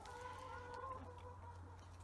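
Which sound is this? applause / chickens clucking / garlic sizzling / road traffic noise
chickens clucking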